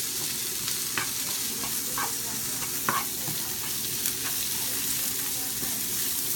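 Vegetables with carrot and green chilli sizzle and fry in a pan, a steady crackling hiss punctuated by a few scraping stirs, with no voices.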